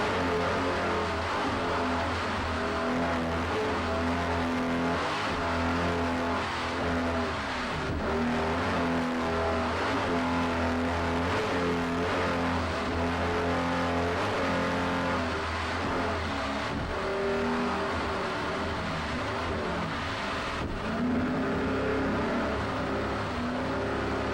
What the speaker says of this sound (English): let's ride along this 34-foot Phantom